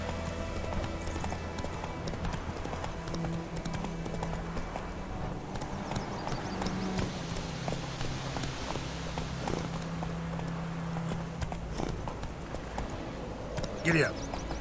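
A horse gallops in the video game The Witcher 3, its hooves beating a steady, continuous clip-clop rhythm at moderate volume over low background game ambience.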